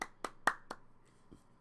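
A few sharp, separate hand claps ring out close by in a quick uneven rhythm, four in all, then a faint fifth, with no voices.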